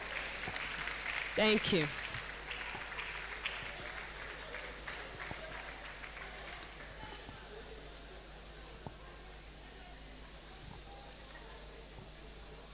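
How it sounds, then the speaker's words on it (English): Applause from a conference audience at the 33rd gathering of Nigeria's Chartered Institute of Professional Secretarial Staff swells briefly, then thins into a long soft patter. A voice speaks quietly over the fading claps. "can we give her a round of applause all the way from Benin Republic"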